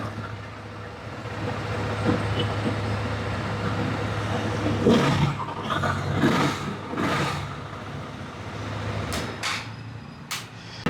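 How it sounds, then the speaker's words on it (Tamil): A motorcycle fitted with new tires idles in place with a steady, loud low rumble, and a few metallic knocks and clanks break in over the running engine. "நல்ல சவுண்டோட இந்த பைக் நிற்குது பாருங்கள்"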